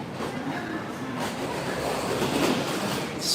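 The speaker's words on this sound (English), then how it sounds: "Bye-bye, Shinkansen." A Shinkansen bullet train rolls through Hakata Station in Fukuoka with a continuous rushing, rumbling roar and faint rail clatter, steady and fairly close, with no talking over it.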